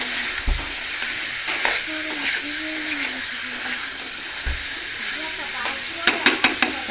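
Cumin and coriander powders are stirred and fried in a pan with a close, constant sizzle, some dull knocks, and a quick burst of spoon taps near the end.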